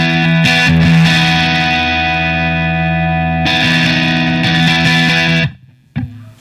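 Electric guitar played through an Empress compressor pedal, sustained distorted chords ringing loud and even, briefly restruck midway, then cut off to near silence with a short final note.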